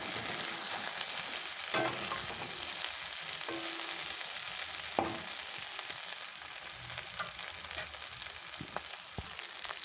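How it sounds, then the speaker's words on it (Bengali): Spices or paste frying in a home kitchen pan, a steady dense sizzle running throughout with a few faint clicks and knocks of stirring, no voices. "তারপরে একটু ভাজা ভাজা হয়ে যাচ্ছে"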